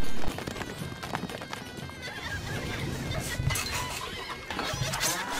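Galloping horses in the medieval strategy game Stronghold Crusader, with a busy clatter of hooves, whinnying and battle noise in a dense, continuous mix.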